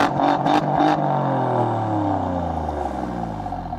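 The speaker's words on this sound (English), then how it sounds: "The Giulia Quadrifoglio arguably has one of the best exhaust notes of its era" An Alfa Romeo Giulia Quadrifoglio exhaust rasps through a few sharp revs, then settles into a deep, falling engine drone that fades slightly, close and loud with no talk.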